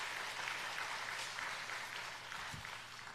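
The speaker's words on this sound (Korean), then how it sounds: "찬양팀 정말들 수고 많은데 격려와 축복의 박수 한번 해주셨으면 좋겠습니다" A church congregation claps for the worship team during an early-morning revival service, a steady wash of applause filling the room for the whole stretch at a fairly soft, distant level.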